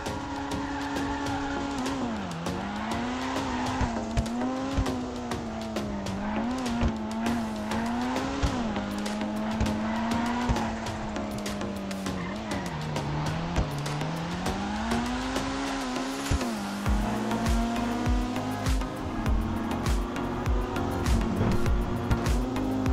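Dinka Sugoi front-wheel-drive hatchback sports car with a V8 engine and six-speed gearbox in GTA Online, engine revving and shifting continuously with tire squeals and skids throughout, loud with no talk.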